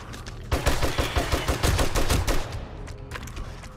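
Rapid bursts of video-game gunfire in a Horde base battle, a dense run of loud close shots for about two seconds that then thin out into scattered reports over background game noise.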